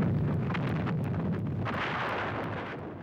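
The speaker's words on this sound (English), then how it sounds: "mortar fire and shells and so on exploding" Mortar fire and exploding shells in a battle form a loud, dense, continuous rumble, broken by scattered sharp bursts and blasts throughout, with no voices.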